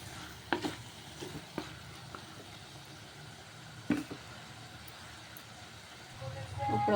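Mutton keema curry sizzles in a pan with a few scattered stirring clatters, then a rising hiss near the end as water goes in.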